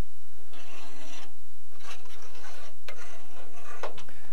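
A scraper rasps old layers of paint off a Willys MB Jeep grill in close, loud repeated strokes with short gaps between them.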